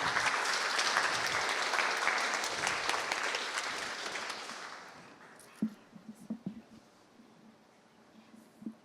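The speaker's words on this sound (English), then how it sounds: "Okay, so while Chris gets set up, can we have a round of applause for Chris Ayers, please?" Audience applause at a stylized creature design workshop, loud and dense for about five seconds, then fading into a quieter room with scattered bumps and low voices.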